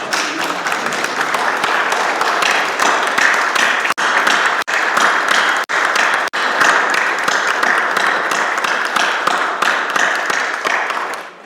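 A church congregation applauds its mothers during a Sunday service, with steady, dense clapping from a full room, continuous and loud for several seconds and interrupted by a few sharp breaks.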